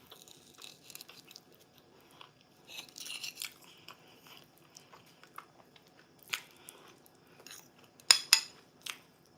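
A knife cuts into a tender homemade Jamaican Christmas cake made with breadcrumbs, giving faint scattered scrapes and soft crunchy taps with cutlery clinks, quiet and close, ending with a couple of sharper clicks.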